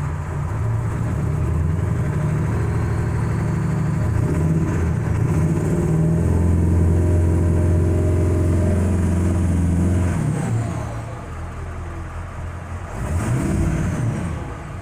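A 2000 Ford F-350 with a 7.3 diesel engine and a no-power fault revs and holds under throttle, a loud close droning roar that drops back briefly near the end before climbing again.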